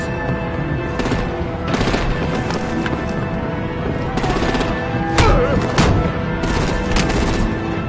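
Bursts of gunfire and heavy artillery blasts from the Batman: The Enemy Within video game ripple through a dense, continuous battle din, with repeated loud volleys over a roaring background.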